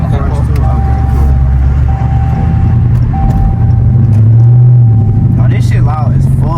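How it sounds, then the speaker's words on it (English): A Dodge Scat Pack with a straight-pipe exhaust in 4-inch tubing, no muffler or resonator, holds a loud, deep, steady rumble up close, swelling briefly near the end, with voices faintly underneath. "So it's no muffler, no res. It's like a straight pipe, but it's like 4-inch tubing all around."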